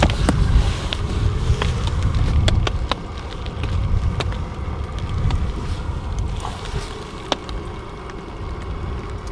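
Wind gusting around a camping stove on a rainy outing, a steady loud rumbling buffet with scattered faint clicks and knocks.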